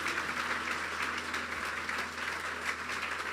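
Church congregation applauding in praise, a dense, steady wash of many hands clapping at moderate level with no clear gaps, filling the space evenly throughout.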